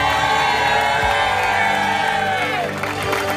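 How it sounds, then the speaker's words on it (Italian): A crowd cheers, whoops and applauds for ultrarunner Marco Olmo at an outdoor gathering, loud and sustained throughout, with scattered shouts and voices mixed into the roar. "Noi intanto facciamo un applauso, festeggiamo Marco Olmo."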